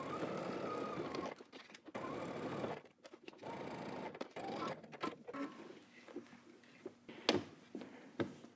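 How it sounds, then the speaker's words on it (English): Domestic sewing machine stitching a 5/8-inch seam on a tank top, running in steady bursts with short pauses, moderately close with light handling noise between runs. "we're gonna go ahead and stitch using 5/8 of an inch seam allowance."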